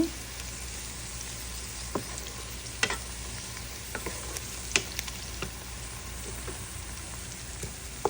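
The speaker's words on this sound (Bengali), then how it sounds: "তেলটা গরম হওয়ার পরে পেঁয়াজ কুচি আর কাঁচামরিচ দিয়ে একটু ভেজে নিচ্ছি" Chopped onions and green chilies fry in hot oil with a quiet, even sizzle, broken by sharp scattered clicks and taps from stirring, all close and without speech.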